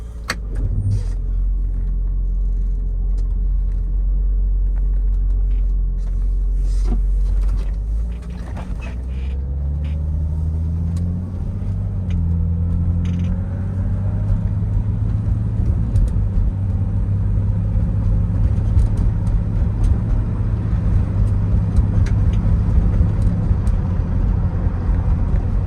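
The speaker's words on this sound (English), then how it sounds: "we're gonna go for a little demonstration drive" A 1989 BMW 325i convertible idles, then pulls away and accelerates through the gears, its engine rising in pitch with each shift into a loud, close, steady road rumble.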